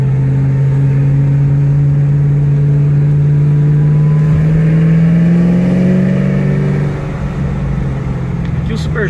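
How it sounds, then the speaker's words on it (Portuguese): A Camaro ZL1 engine climbs from idle into a strong, rising rev, its deep, loud tone sweeping upward and then easing back to a steady drone. "Agora, se acelerar, ele vai mostrar a potência dele."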